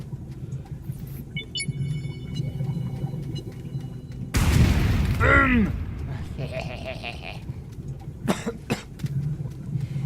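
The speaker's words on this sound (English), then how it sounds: "Oh, dynamite!" A sudden loud dynamite boom in the video game Astroneer bursts out midway with a rumbling decay, amid game sounds, bleating effects and a voice speaking.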